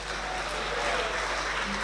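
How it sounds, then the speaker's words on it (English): Applause for a team at a startup weekend pitch event, a brief, continuous wash of clapping from the crowd, fairly loud and even throughout. "please give a big applause for Rich Kids."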